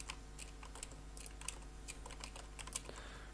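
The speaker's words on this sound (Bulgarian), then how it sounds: "Не знам дали чувате клавиатурата." Fast, close computer keyboard typing gives a dense patter of clacky key presses over a low steady hum, with no voice.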